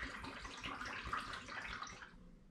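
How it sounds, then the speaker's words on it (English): Homebrewed prune melomel wort poured into a hydrometer flask, a steady close splashing rush of liquid that runs for about two seconds and then stops, with no talking. "I'm just going to do that by pouring it into my gravity flask."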